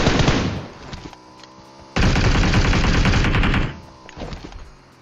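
Gunfire in PUBG Mobile on the Erangel map, loud bursts of rapid automatic shots separated by quieter pauses, no talking.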